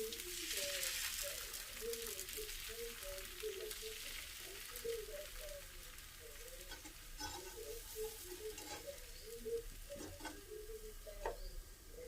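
Coriander dosa batter sizzles faintly on a hot pan, a soft steady crackle with scraping and stirring sounds and occasional clicks, a voice murmuring underneath.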